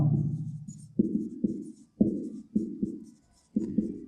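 Pen strokes scratching on paper while maths is worked out during a lesson, heard as a series of short, close, distinct strokes with brief pauses between them and no talk.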